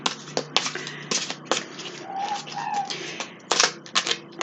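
A large tarot card deck is shuffled by hand close up, giving sharp riffling snaps and papery flutters in irregular bursts, with a faint bird chirp in the background.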